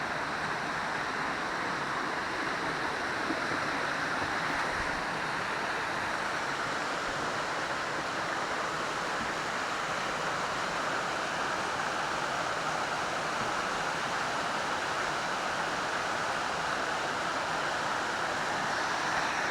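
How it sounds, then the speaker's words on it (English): Waterfall beside the Bartram Trail in the mountain woods, a steady broad rushing hiss of falling water that holds constant throughout, fairly close and continuous with no voices. "I don't remember the name of this waterfall."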